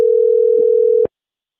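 During an online meeting, a loud, steady telephone dial tone hums for about a second and then cuts off abruptly into silence.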